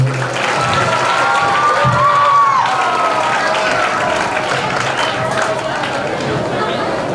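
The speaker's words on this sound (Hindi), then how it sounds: "एक बार फिर जोरदार तालियां" A crowd at a certificate distribution ceremony for a free computer course breaks into loud, sustained clapping with cheering and chatter mixed in, steady and close throughout, while a voice rings out over the noise early on.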